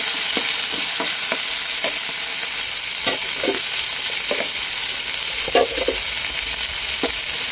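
Garlic, onion and tomato sautéing in a pan give a steady loud sizzle, with scattered scrapes and stirring knocks throughout.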